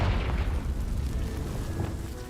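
A Confringo blasting spell detonates in Hogwarts Legacy, a deep rumbling boom that rolls on steadily, loud and low throughout.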